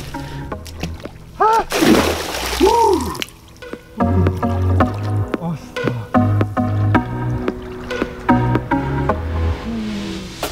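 A person wades into cold, 11-degree Lake Tisza water in early November, with irregular close splashes and sloshing between loud exclamations and gasps, while a voice talks throughout.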